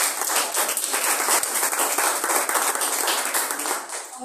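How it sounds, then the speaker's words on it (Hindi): An audience gives applause after a sermon about Jesus and the Samaritan woman, a dense crowd of hands clapping steadily at fairly close range, easing slightly toward the end, with no voices. "आए कलाम के लिए जोरदार तालियां बजाएंगे हम।"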